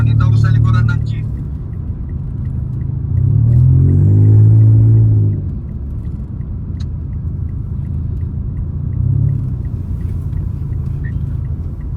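Jeep engine idling and running with a steady low rumble, a louder surge partway through, and voices talking over it.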